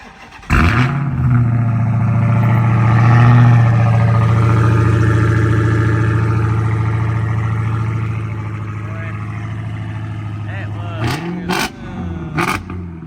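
A supercharged 6.2 liter V8 Dodge Charger SRT Hellcat fires up close by, settling into a loud, steady rumbling idle with a brief swell, then a few sharp blips near the end.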